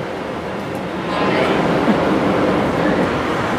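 Steady broadband ambience at San Jose railway station, a continuous wash of rail and crowd noise that swells slightly after the first second and holds level without distinct events.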